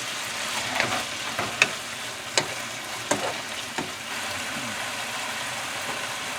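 Marinated taco meat browns in a hot pan with a steady close-up sizzle, broken by several sharp scrapes and clacks as it is stirred.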